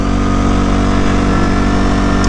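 Loud, close engine drone from a quad ATV being ridden, holding a steady revving hum with a slight rise near the end.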